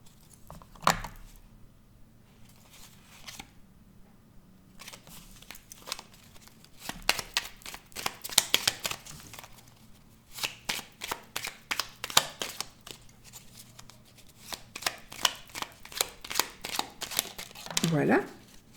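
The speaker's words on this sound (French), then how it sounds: "On va tirer une petite carte." Oracle cards being shuffled and drawn by hand, a rapid series of crisp papery flicks and riffles close by, with someone speaking intermittently over the handling.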